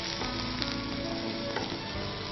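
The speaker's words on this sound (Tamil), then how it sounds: "இப்போது ஆனியன் போடுறேன். வெங்காயம் நல்லா வதங்கட்டும்." Chopped onions frying in oil with cumin seeds give a dense, close, continuous sizzle with faint crackles and a couple of brief clinks from stirring; no one talks.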